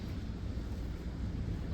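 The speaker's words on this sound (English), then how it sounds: "It is just really windy." Steady, heavy wind buffeting the microphone, a continuous low rumble and roar with no pauses.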